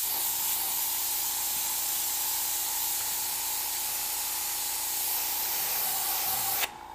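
An airbrush sprays paint in one steady, continuous hiss lasting several seconds, close and even, then cuts off abruptly near the end.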